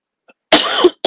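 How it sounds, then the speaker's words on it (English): A single harsh cough bursts out close by, a rough throaty hack lasting about half a second, then a brief start of another sound right after. "got a bit of a cough"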